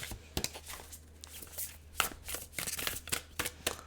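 A large, stiff tarot deck is being shuffled: irregular crisp riffles and card slaps in quick bursts, soft and close, over a low steady hum.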